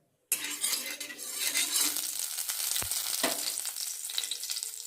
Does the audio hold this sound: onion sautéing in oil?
yes